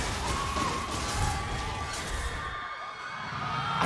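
A crowd of esports fans, the Phoenix Army, cheers and shouts after TNC wins game 1 against Minana Evos. The roar is loud and continuous, a dense wash of voices filling the arena.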